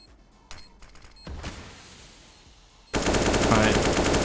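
Gunfire in a Counter-Strike match on the Nuke map: a few scattered sharp shots, then a sudden loud, continuous burst of automatic fire that carries to the end, close and dense, with no talk.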